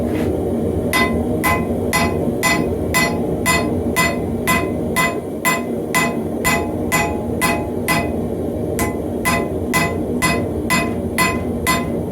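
A hammer strikes a hot Damascus billet forged from a saw blade in an evenly paced series of about twenty ringing metallic blows, with a steady forge roar behind them throughout.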